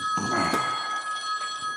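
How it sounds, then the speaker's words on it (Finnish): A telephone rings in a brief, steady electronic tone lasting under two seconds, with a soft clatter near the start and no speech. "Puhelin soi, valot sammuu."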